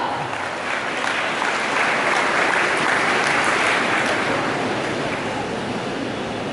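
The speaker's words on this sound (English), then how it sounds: "Give a big round of applause." A large audience at a school investiture ceremony applauds steadily, a dense and sustained wash of clapping that holds at an even level throughout with no talk over it.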